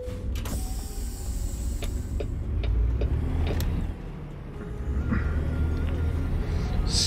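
Steady engine drone of a heavy truck cruising in American Truck Simulator, continuous and fairly loud throughout, with a few faint clicks and creaks over it and no talking.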